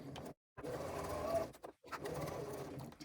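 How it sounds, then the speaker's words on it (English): A sewing machine stitches around a flat bag flap piece with a 3/8-inch seam allowance, a close, steady whirring hum that stops briefly twice, at each pause, then resumes. "we are going to sew around this flat piece using a 3/8 of an inch seam allowance"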